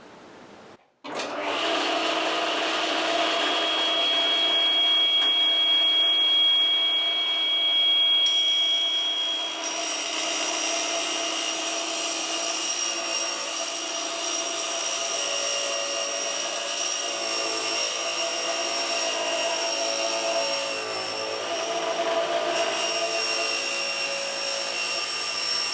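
A table saw cuts through green van insulation board during a Mercedes Sprinter conversion, its loud, steady motor whine running almost unbroken for over twenty seconds after a sharp start, with no one talking.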